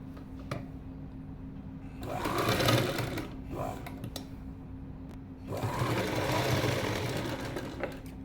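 A sewing machine stitches elastic in two sustained motor-driven bursts with a quieter pause between them, sitting close and fairly loud.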